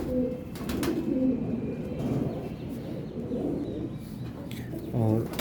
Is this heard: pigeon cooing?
yes